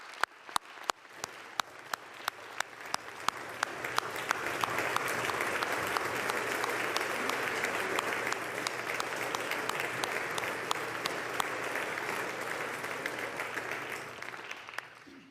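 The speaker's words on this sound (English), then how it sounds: "Thank you for this round of applause" A round of applause rises in a congressional chamber, starting with scattered distinct claps, swelling into a full sustained ovation from many people, then thinning toward the end; fairly distant and soft in level.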